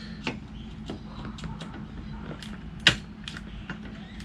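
A run of small, sharp ratcheting clicks from a zip tie being tightened on a vacuum tube at a Land Cruiser 200 Series engine sensor, close and uneven, with one louder snap near the end.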